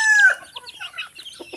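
Chickens at feeding time: a rooster's crow cuts off at the start, followed by a scatter of soft, close clucks and chatter.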